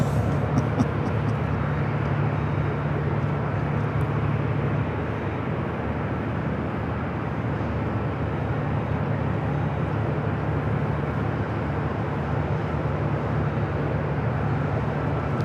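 A Southwest Airlines Boeing 737-800 bound for Denver at Los Angeles International Airport, a steady, unbroken jet roar that holds at an even level throughout, with no talk.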